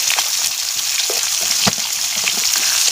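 Chili sizzling in hot oil in a pan, village-style home cooking, a steady close crackle with scattered louder pops throughout.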